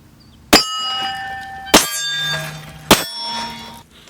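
Three sharp metallic clangs ring out from a steel target during pistol practice, evenly spaced about a second apart, each loud strike followed by a bright, ringing decay.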